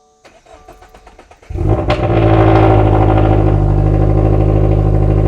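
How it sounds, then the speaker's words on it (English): A Toyota GR86 engine cranks with a rapid starter whir, catches with a sharp rev flare, then settles into a loud, steady idle close by. "Alright, let's turn on the car."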